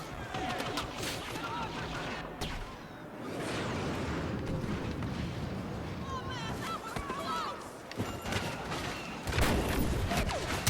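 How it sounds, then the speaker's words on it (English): Airstrike explosions in Star Wars Battlefront arrive as repeated booming blasts and crackling bursts amid a busy battlefield din, with gunfire and voices mixed in over about ten seconds. "Airstrike incoming."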